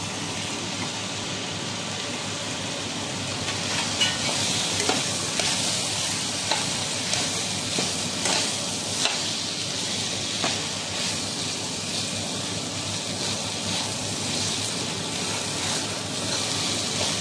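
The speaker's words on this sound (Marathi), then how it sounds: "याला छानपैकी फ्राय करून घेते याची।" Pointed gourd fries with onion and tomato in a pan, a constant broad hissing sizzle lasting throughout, with soft periodic stirring scrapes and a few faint taps, near and steady, with nobody talking.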